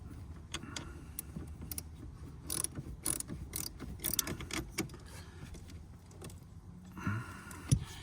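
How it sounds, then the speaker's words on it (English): A ratchet loosening the battery hold-down nut on a Dodge Durango, rapid clicking pawl bursts in uneven runs, close and moderately loud, with metallic clanks and rustling in an engine bay. "So you're loosening this nut right here, which is the one closest to you."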